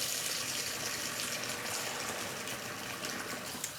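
Water pouring steadily from a tap into a container while preparing meals in a home kitchen, a continuous close hissing gush with no talking over it.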